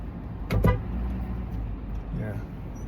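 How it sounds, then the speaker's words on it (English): Trucks pass in busy street traffic, a continuous loud rumble of engines and tyres with a heavier vehicle surge early on. A voice is briefly heard beneath the noise. "Yeah, trucks all over the place."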